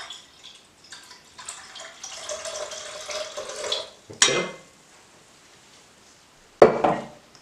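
Plain tap water is poured into a high pH sodium hydroxide solution to dilute it. A steady splashing pour builds for a few seconds and ends in sharp clinks of glassware, with a second loud clatter near the end.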